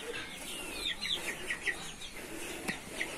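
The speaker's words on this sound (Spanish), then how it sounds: "Y mis gallinas andan allá afuera." Chickens cluck in short, scattered bursts, fairly quiet and at a moderate distance, with soft ambient background noise.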